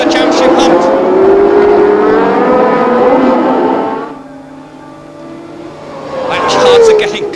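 Formula 1 race cars at the 1976 Japanese Grand Prix roar past in a loud, high, rising and falling engine whine that fades and then swells again, under a commentator talking.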